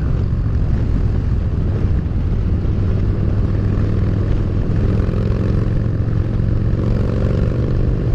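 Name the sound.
strong wind blowing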